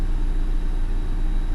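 A newly replaced radiator fan motor on a Proton Preve runs with a loud, steady whirring drone and low rumble, continuous and unchanging, with no voices.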